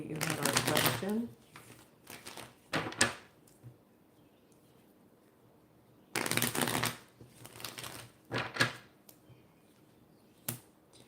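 Tarot cards being shuffled in quick, crisp riffling bursts, close and clear, separated by pauses and followed by soft card handling and a few taps.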